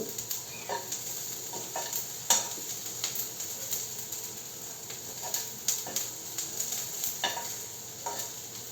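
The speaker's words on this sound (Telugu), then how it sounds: "బాగా ఎర్రగా వేగిపోవాలి ఉల్లిపాయ ముక్కలు." Onion pieces frying in oil while being stirred, a steady soft sizzle broken by scraping strokes of a spoon against the pan at close range, with no talking.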